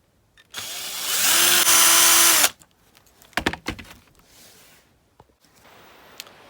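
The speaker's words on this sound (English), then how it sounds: "I'm just going to drill out one rivet hole" A power drill whines loudly for about two seconds drilling out a rivet hole in a die-cast Dinky Toys HS125 jet, then stops, followed by clattering metal knocks and handling noises close by.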